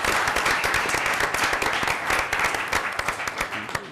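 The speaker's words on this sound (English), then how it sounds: "so we give them a round of applause." A room claps in a round of applause at a Wayzata school board meeting, sharp individual hand claps blending into a dense, steady ovation that eases slightly toward the end.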